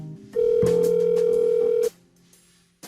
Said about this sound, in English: Oh, now it's ringing.